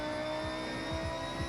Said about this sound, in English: Not sure why this car is sliding so much.